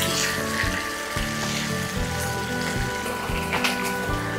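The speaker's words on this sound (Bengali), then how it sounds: "এখন এটা একটু হাই হিটে ভাজতে হবে" Chicken and spices with soy sauce frying over high heat, a dense, steady sizzle with popping crackle close up, continuous throughout with a low hum beneath.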